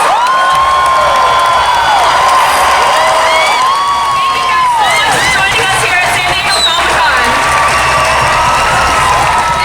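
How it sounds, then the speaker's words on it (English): A huge crowd in Hall H at San Diego Comic-Con 2019 cheers, screams and applauds for the Marvel Studios panel, a loud, continuous roar with shrill whoops, while a presenter speaks over the din. "Everybody, big round of applause."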